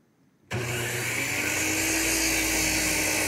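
A power saw spins up abruptly and cuts through wooden door casing for a craftsman-style patio slider surround, a loud, steady high whine that holds constant after a silent start, close by and alone.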